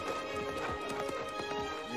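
Horses gallop in the 1993 western Tombstone, one a white horse: a quick run of steady hoofbeats under a dense bed of film music and ambience.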